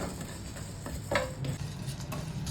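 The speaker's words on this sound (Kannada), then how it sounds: "ಇದನ್ನು ಚೆನ್ನಾಗಿ ಫ್ರೈ ಮಾಡಿ ನಾವು ಹುಡಿ ಮಾಡಲಿಕ್ಕೆ ಉಂಟು" Spices for chicken bhuna masala sizzle and are stirred in a hot pan, a steady soft frying hiss with scraping strokes of the spoon near the middle and end, fairly close and moderately quiet with no voices.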